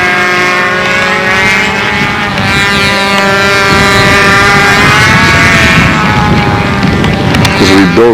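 A control-line stunt model airplane engine whines steadily and loudly in flight at the windy 1999 Nationals official stunt flying, a buzzing harmonic drone that holds throughout with slight shifts in pitch.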